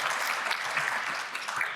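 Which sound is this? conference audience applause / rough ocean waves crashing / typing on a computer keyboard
conference audience applause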